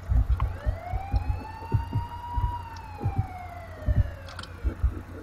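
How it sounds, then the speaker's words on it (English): A wailing vehicle siren in the video game Apocalypse Rising rises and falls in one long sweeping tone, loud and continuous, over a background of scattered thumps and clicks. "Did you hear my sirens?"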